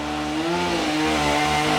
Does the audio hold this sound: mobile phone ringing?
no